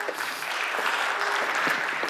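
Audience at a technology summit panel discussion on data security applauding the panelists, a steady, moderately loud wash of clapping from a seated hall, with no voices over it.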